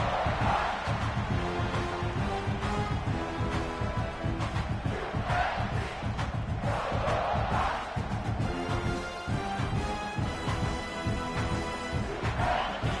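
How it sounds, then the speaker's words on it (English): A home crowd roaring at a college football game between Alabama and South Carolina, a dense, loud, sustained wall of cheering and chanting that swells and surges continuously. "this home crowd is fired up and ready to make a difference today"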